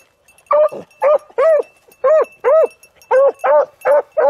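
Beagles bay while chasing a rabbit, a series of about nine loud, close howling barks in a fairly regular rhythm with short gaps of quiet between them.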